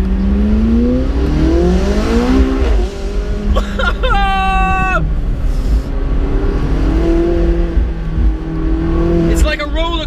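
A McLaren 675LT turbocharged supercar on a twisty road, its engine revving up and down through gears with rising and falling tones and sharp exhaust pops, heard loud and close from inside while someone talks.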